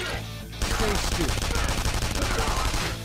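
Rapid gunfire from a bullet attack in the video game Persona 5, a dense burst of repeated shots that starts abruptly and continues loudly for a few seconds.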